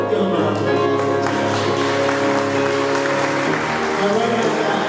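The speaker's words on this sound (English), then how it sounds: "Give them a round of applause" An audience gives sustained applause at a celebration event, a loud continuous clatter of clapping with voices mixed into the crowd noise.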